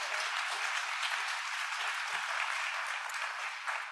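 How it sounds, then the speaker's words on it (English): A conference audience breaks into sustained clapping, a dense even wash of applause that holds steady throughout. "Yeah, we can clap for that."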